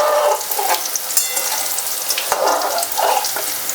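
Corn frying in hot oil until crispy, a dense continuous sizzle with bursts of stirring and scraping, loud and close with no talk.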